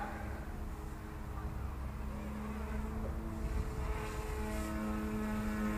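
The rotor of an OMPHobby M2 radio-controlled helicopter in flight makes a faint, steady buzzing whine that carries on throughout, heard at a distance.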